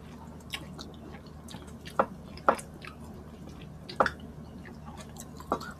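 Wet, close chewing of a big mouthful of Indian chicken curry, with soft squishy smacks and a few sharper clicks spaced irregularly over a low steady background.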